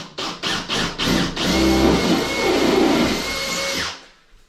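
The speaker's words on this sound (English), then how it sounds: "So I'm going to drill this hole, 6mm hole once again." A power drill starts in several short bursts, then runs steadily for a few seconds as it bores a 6mm hole into a plasterboard wall, then winds down.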